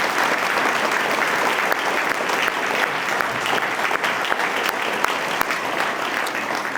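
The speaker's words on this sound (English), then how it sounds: "I would like to give them a big round of applause as well." Steady, dense applause from a crowd at a scholarship dinner, sustained throughout at an even level with no talk over it.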